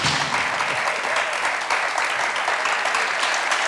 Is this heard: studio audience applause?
yes